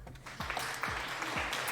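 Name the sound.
applause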